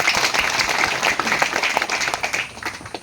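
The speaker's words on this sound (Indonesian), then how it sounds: "Tepuk tangan buat kita semua." A school crowd at SMAN 1 Amarasi in Kupang applauds a tomato harvest with the provincial governor, sustained dense outdoor clapping that fades toward the end while voices murmur faintly.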